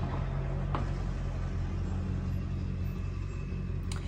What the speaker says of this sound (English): There's a loud truck